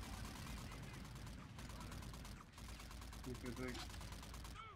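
Rapid automatic gunfire from a weapon in the sci-fi shooter Call of Duty: Infinite Warfare, a steady rattling stream of shots running nearly the whole time with brief pauses, while someone talks over it.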